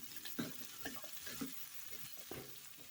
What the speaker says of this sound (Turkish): Patateslerle birlikte de güzelce yaklaşık 1 dakika kadar kavurma işlemine devam ediyorum.